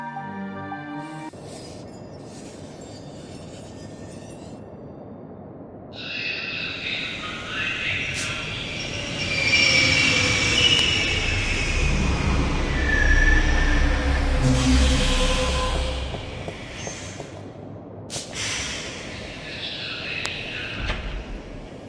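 A Metroline subway train in The Longest Journey video game arrives and runs, rising rumble with squealing wheels and a long metallic screech that builds loud and then fades back to quiet ambience.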